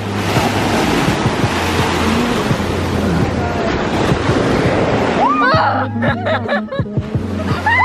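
Loud ocean waves wash steadily onto a beach under gusty wind, with laughter and a voice joining near the end.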